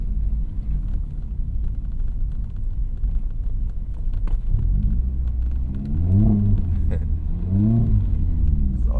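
A Mazda MX-5 Miata ND3 engine rumbles steadily while driving on snow and slush with winter tires, with occasional revving rises and brief whine changes as it accelerates; continuous road and drivetrain noise throughout.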